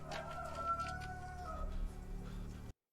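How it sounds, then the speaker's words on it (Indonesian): A rooster crows from a house roof in the film The Wailing, one drawn-out call over a low background, ending abruptly. "ayam yang berada di atas rumahnya akan berkokok 3 kali"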